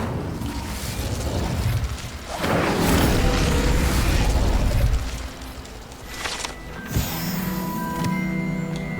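Incendio fire spell cast in Hogwarts Legacy, a loud fiery burst and rumbling whoosh swelling for several seconds amid dense game effects, then easing into a quieter crackling tail.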